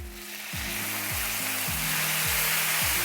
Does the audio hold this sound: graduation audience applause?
no